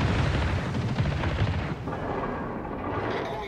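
Heavy booming naval gunfire in World of Warships rumbles continuously, dense and loud, fading slightly toward the end.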